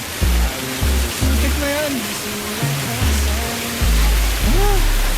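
Kinahulogan Falls in Lagonoy, Camarines Sur, roars as a steady broadband rush of falling water, loud and continuous beneath people talking nearby.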